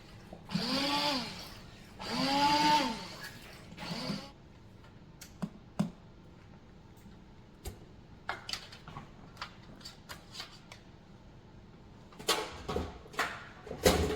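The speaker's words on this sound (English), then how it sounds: "So I'm going to go ahead and take my immersion blender and just hit it with that a little bit" An immersion blender breaks up beef fat being rendered into tallow, whirring in three short bursts that rise and fall in pitch. Scattered clicks and knocks follow, then a cluster of sharper taps near the end.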